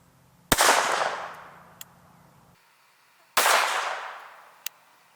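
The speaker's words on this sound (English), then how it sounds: "I'm gonna shoot it out of a tiny little Taurus 22 pistol" Two loud, close .22 Long Rifle shots from a small Taurus .22 pistol, each a sharp crack with a ringing tail of about two seconds, spaced roughly three seconds apart.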